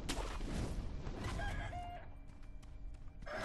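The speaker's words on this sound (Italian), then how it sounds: "Un gallo." Rooster crowing in the video game Sekiro: Shadows Die Twice, one loud drawn-out cock-a-doodle-doo followed by a few clucks, heard alone without talk.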